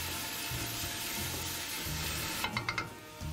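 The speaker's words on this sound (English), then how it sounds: "Pop it in the pot. Give that a stir." Vegetables and matchstick-cut ingredients cook in a pot with a low steady sizzle, then a quick run of clinking, scraping stirs near the end.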